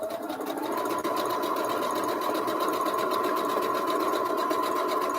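A sewing machine runs continuously while stitching quilt triangles a quarter inch from a drawn line, a loud, close, rapid mechanical whir with steady needle rhythm and a faint motor hum, with no pauses.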